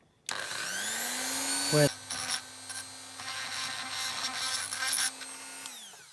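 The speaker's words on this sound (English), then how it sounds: "Just going to get a little Dremel in there" A small Dremel rotary tool spins up and grinds on a Matchbox No.31 Volks-Dragon VW Beetle die-cast car, a close, steady high whine with brief pitch dips as it bites into the metal.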